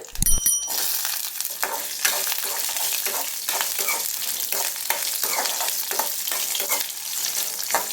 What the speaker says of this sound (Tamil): இப்போ இஞ்சியும் பூண்டும் ஒரு 30 செகண்ட்ஸ் வறுத்த பிறகு